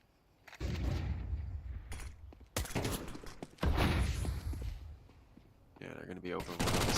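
Bursts of rapid MAC-10 submachine gun fire in a Counter-Strike match, several loud volleys separated by short gaps, with a commentator's voice running over them.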